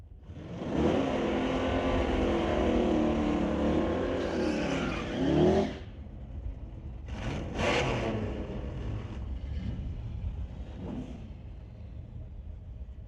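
Drag racing cars, a Mustang and an Acadian, launch hard at Mission Raceway in a National Tire Non-Electronics semi-final, a long loud engine roar that surges then cuts off, followed by quieter revving and distant engine noise.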